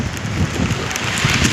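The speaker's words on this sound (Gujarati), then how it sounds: "ઝરમર ઝરમર વરસાદ આવવાનું તે ચાલુ થઈ ગયું છે." Light drizzling rain falling outdoors on a trip to a dam, a steady dense patter that fills the short moment evenly, close and fairly loud, with no talk.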